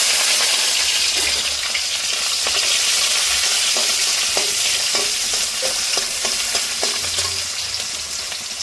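Onions and green chillies fry in hot oil for chow mein, a loud, steady sizzle filling the pan with scattered light clicks and taps from stirring throughout.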